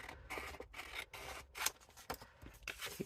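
Scissors trimming paper for a journal tag cover, a series of close, crisp snips and sliding cuts in an uneven rhythm, with no talking.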